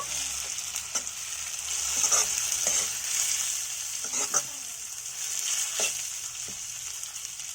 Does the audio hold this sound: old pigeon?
no